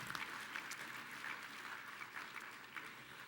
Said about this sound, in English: Go ahead, give me a round of applause.